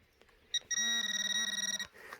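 A metal detector gives a single sustained electronic tone lasting over a second, preceded by a short beep and some faint rustling.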